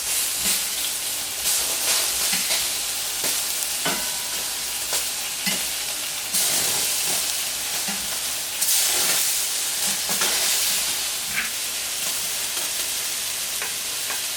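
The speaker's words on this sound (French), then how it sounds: "Je vais faire cuire de ce côté-là." Marinated Iberian pluma pork searing on a hot plancha, a loud continuous sizzle and hiss with repeated bursts of spatter and stirring scrapes, close and with no voices.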